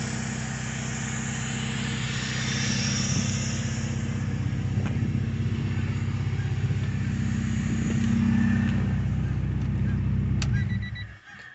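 Car with a K-series engine swap running at idle, a steady low engine drone with a faint rise in revs partway through, close and continuous for about ten seconds before it cuts off.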